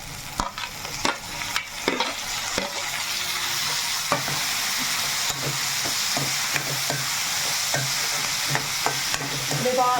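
Tomatoes fry in a pan with a steady sizzle, while a spoon stirs and scrapes at intervals, close and fairly quiet, with no talk.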